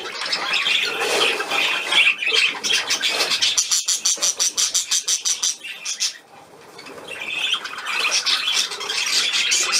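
Budgerigars squawk and chatter loudly and close by, with a burst of rapid rhythmic wing flapping in the middle before the shrill calls pick up again.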